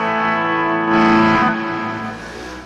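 Electric guitar played through a Mooer GE200 on its Full Gold Clone distortion setting, with a sustained, saturated chord that swells briefly louder and then rings out, layered with effects and no talking.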